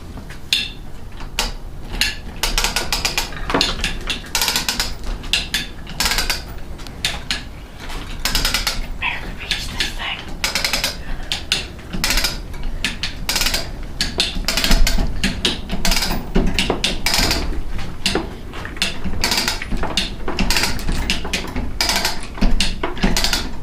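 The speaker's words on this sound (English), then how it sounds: "I just wanted to demonstrate the chain hoist." A hand-cranked chain hoist lifts a load with a steady, loud stream of close metallic ratcheting clicks and chain clatter, continuing without pause for over twenty seconds.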